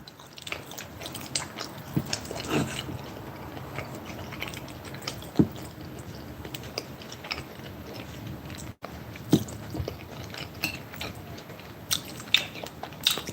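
Close, quiet bites and soft chewing of cheesy egg and avocado, a steady run of small wet crunches and squishes with occasional louder bites, with no talking.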